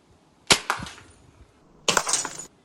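A Hatsan air rifle pellet shatters a small glass target about 20 metres away outdoors, giving two sharp cracks, each followed by a brief tinkling spray of glass fragments, loud and clear with no talk.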